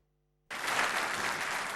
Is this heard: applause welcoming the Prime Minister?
yes